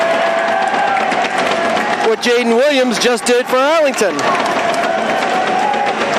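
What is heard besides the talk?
home crowd cheering at high school basketball game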